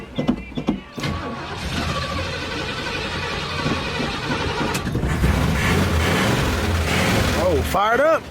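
A 1970 Oldsmobile 98 engine cranks and catches after a starter replacement, then settles into a loud, rumbling idle close by, with brief voices and a whoop at the end.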